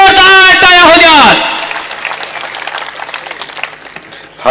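A voice gives way to a crowd's applause for Maharashtra rural development minister Jaykumar Gore at a public gathering. The clapping runs steady and fairly loud for about three seconds, then trails off.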